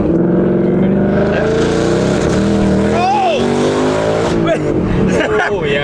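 A Ford Mustang accelerates hard, its loud engine roaring close up throughout with shifting pitch and a brief tire-squeal-like whine, while people talk and exclaim over it.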